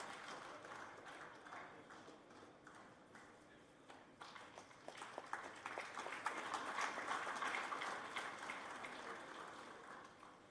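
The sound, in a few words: audience applause welcoming Professor P.G. Chengappa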